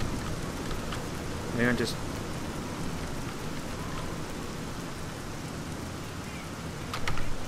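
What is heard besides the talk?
rain ambience in the video game Fallout New Vegas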